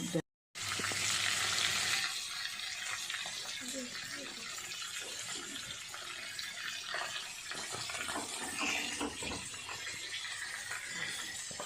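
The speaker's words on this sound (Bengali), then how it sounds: "তেলে ভাজছে।" Fish fries in hot oil for a fish curry, a strong continuous sizzle close by with occasional soft clinks and shifts as the pieces settle in the pan.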